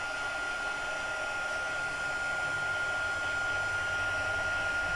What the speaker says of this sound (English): I'm just gonna bring in my heat gun here. Unfortunately, it's not too loud of a heat gun